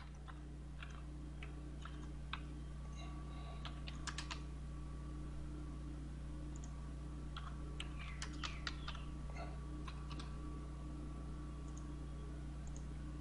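A password is typed on a computer keyboard in a quiet room, with scattered soft key clicks and short quick runs of tapping over a steady low hum.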